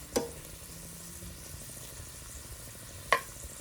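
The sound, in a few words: stirring cabbage frying in a big skillet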